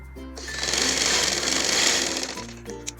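A sewing machine stitches piping in one steady burst of rapid mechanical whirring for about two seconds, close and loud, with faint music playing underneath.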